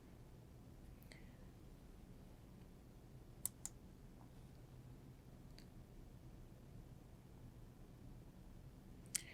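Computer mouse clicks while selecting a similarity percentage in plagiarism-checking software: a few faint, sharp clicks spaced apart over quiet room noise, with no talking.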